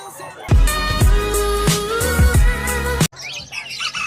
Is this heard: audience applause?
no